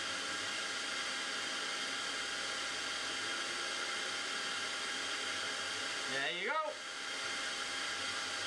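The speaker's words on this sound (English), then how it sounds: "We'll put the hairdryer on it and we'll see it light up that LED." A hair dryer blows a steady, loud rushing roar onto a small homemade wind turbine built from scrap. Near the end, a brief rising whir sweeps up, then the airflow continues.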